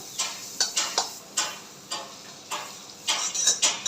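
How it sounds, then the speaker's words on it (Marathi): Butter sizzles in a hot kadhai, a soft frying hiss broken by a series of quick scraping and tapping strokes at an irregular rhythm, fairly quiet and close, with no talking. "इथे आपली कढई छान अशी तापलेली आहे तर आता त्याच्यामध्ये मी इथे बटर ॲड करणार आहे"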